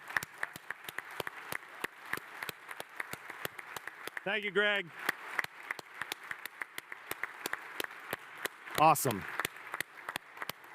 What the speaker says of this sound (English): Let's give them a round of applause for Fluttercon